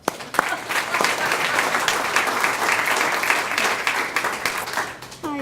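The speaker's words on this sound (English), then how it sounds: "Big round of applause" An audience at a school awards ceremony breaks into a big round of applause, dense steady clapping that swells and then tapers off, with a voice briefly rising near the end.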